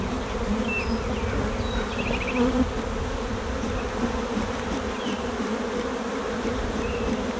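Honey bees drone inside the brood chamber of an open hive. The buzzing is a dense, steady hum with occasional single bees passing close by.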